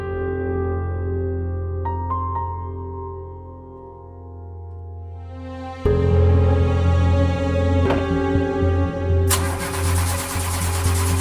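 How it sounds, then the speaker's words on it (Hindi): A car engine idles and then chugs as the starter grinds repeatedly, with a louder lurch partway through but no clean catch, a close mechanical rumble with no voices over it. "गाड़ी स्टार्ट नहीं हो रही।"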